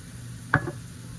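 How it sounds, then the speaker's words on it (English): A single short scrape of stirring in a pan holding minced garlic and cumin in oil, with a soft sizzle under it, close and brief against a quiet background hiss. "we are going to stir this around for a few seconds, about 30 seconds"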